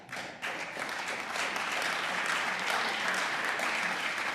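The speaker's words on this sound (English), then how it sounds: "I know some of you got to clap to this one" An audience applauds steadily at the 2022 Virginia State of the Commonwealth Address, beginning abruptly and swelling into a full, sustained round of clapping that fills the hall.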